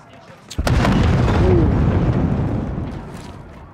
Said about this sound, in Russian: Прям через взрыв бегу